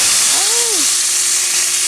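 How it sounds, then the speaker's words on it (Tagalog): Eggplant frying in a pan gives a steady, fairly loud broadband hiss of oil sizzling throughout, with a brief rising-and-falling tonal whine from something in the background partway through. "guys, nagpiprito tayong talong."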